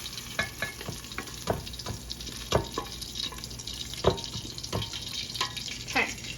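Lamb stew meat browning in a hot pan, a steady soft sizzle broken by repeated scraping and stirring clicks, close and moderately quiet.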